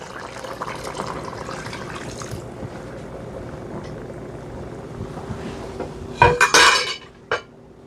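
Beef broth poured into a pot of ossobuco, a low wet rush under faint kitchen background, followed near the end by a few sharp clinks of metal cookware.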